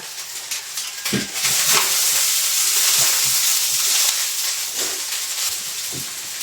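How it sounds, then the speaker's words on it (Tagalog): Leftover cooked rice fries in a hot pan for sinangag, giving a loud, continuous sizzle and hiss with occasional scraping stirs. "Dahil bahaw yung kanin, kaya kailangan natin siya i-fry na maayos."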